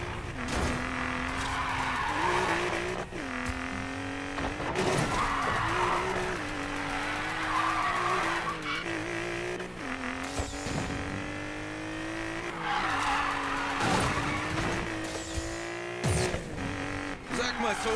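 Drifting car in Need for Speed Payback, with a continuous engine drone and sustained screeching tire skids rising and falling over about eighteen seconds, backed by game music and a voice talking over it.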